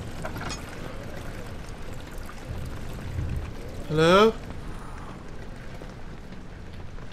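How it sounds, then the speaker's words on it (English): Flowing water in the horror game Amnesia runs as a low, continuous watery rush with faint patters, while a player briefly calls out once in the middle. "The water kind of sounds like footsteps"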